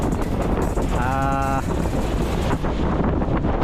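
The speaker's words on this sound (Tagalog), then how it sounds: "Habagat ang hangin ngayon, habagat." Strong southwest monsoon wind rushes across the microphone in a constant blustery roar, with a brief tonal whine partway through.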